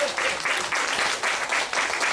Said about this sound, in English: y'all give yourselves another strong round of applause